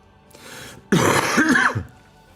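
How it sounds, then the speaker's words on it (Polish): A single close, rough throat-clearing cough, a brief soft rasp first, then a louder harsh burst trailing off. "kaszel mnie męczy straszny"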